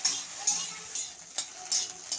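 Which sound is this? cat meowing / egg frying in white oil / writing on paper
egg frying in white oil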